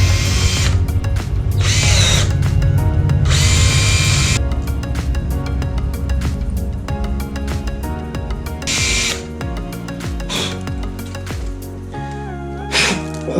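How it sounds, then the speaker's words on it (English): A power drill with a hardened steel bit grinds into an aluminum manifold from a Datsun 1200 ute, loud and close, in sustained bursts that stop and restart with brief pauses between them. "Who wants to see me break this hardened steel bit inside this aluminum manifold?"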